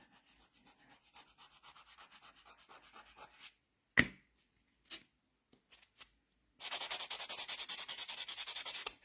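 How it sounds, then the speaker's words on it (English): A buffing block files dip powder nails in short, rhythmic strokes that start faint and speed up. A pause with a sharp knock and a few small taps follows, then a louder, faster run of close scratchy rubbing. "So these buffing blocks are really good."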